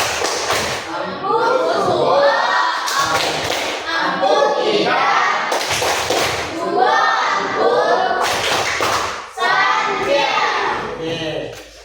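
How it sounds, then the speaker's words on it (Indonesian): A school class claps together in a rhythmic chanted routine, bursts of claps and thumps in repeating groups alternating with children's voices chanting in unison, loud and close. "Tepuk tangan dulu. Sekarang kita tepuk santiang."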